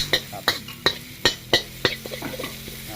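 Garlic, pepper and coriander root being stir-fried in a pan, a utensil scraping in a steady rhythm of about six sharp strokes against the metal over a soft sizzle, close and clear.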